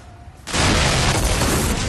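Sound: explosions in a propaganda video

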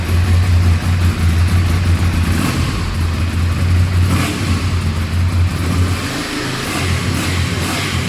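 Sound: engine revving through stock exhaust pipe

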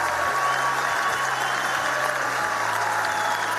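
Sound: audience applause at a film premiere

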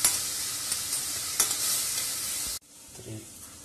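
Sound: onion frying in a pan for chole

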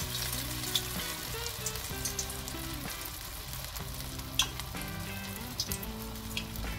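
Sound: frying pumpkin flower fritters on medium flame

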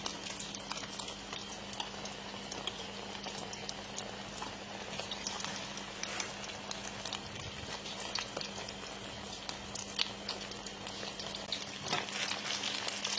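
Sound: frying food until golden

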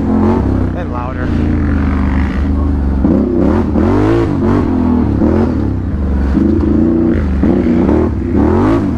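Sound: ATV four-wheeler engine revving on trail

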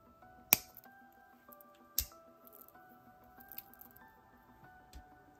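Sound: cutting off excess jewelry wire

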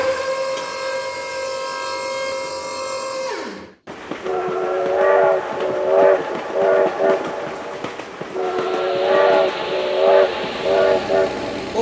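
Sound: train passing in BeamNG Drive video game

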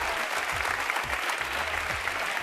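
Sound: TV studio audience applause

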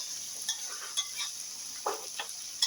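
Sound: stir-frying chicken in a pan

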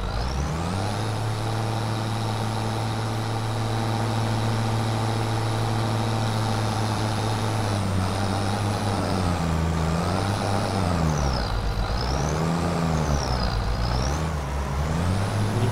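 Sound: tractor engine in video game Farming Simulator 25

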